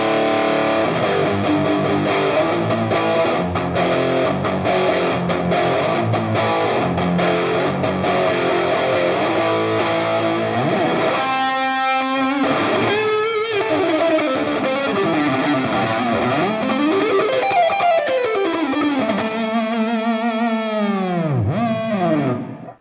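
A Schecter Hellraiser electric guitar with active EMG pickups plays loud, heavily distorted riffs and chords, ending with sustained notes bent up and down through effects that sweep and warble before cutting off.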